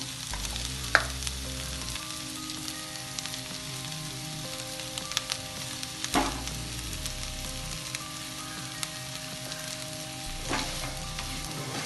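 Mashed elephant foot yam sizzles and fries in a pan with turmeric and coriander, a steady crackle broken by a few sharp scraping stirs, close and alone with no talk.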